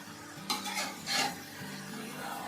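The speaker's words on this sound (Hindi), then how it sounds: "तो अब इसे अच्छे से हम फ्राई कर लेंगे।" Beef with ginger-garlic paste sizzles quietly in a pan for nihari while a utensil stirs and scrapes it a couple of times, close up with no talking.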